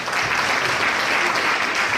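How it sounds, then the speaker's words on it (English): Crowd applause at the 25th anniversary celebration of the Arkansas Martin Luther King Jr. Commission, an even, unbroken roar of clapping from a large audience that stays loud and steady throughout. "Give yourselves a round of applause."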